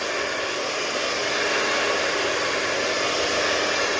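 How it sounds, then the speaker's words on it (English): A hair dryer set to medium heat blows with a steady, loud, continuous whooshing roar that holds an even level throughout, with no talking. "I've got the dryer on medium heat"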